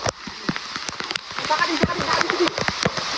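Rain falling on a swelling river where a fish net is being worked, a dense patter with sharp splashing drops close by, and a voice faintly underneath.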